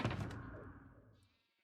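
A single short sheep bleat in a video game, moderately loud, fading out quickly into silence.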